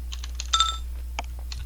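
Quick bursts of typing on a computer keyboard, a few short clusters of key taps separated by pauses, close and fairly quiet over a steady low hum.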